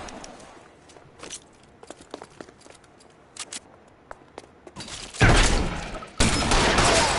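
Gunfire in the video game L.A. Noire, scattered sharp cracks and clicks in quick irregular succession, followed by two loud heavy blasts near the end.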